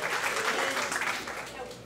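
Church congregation applauding during a sermon on the resurrection, a dense steady wash of clapping that holds level throughout, with a voice faintly present underneath.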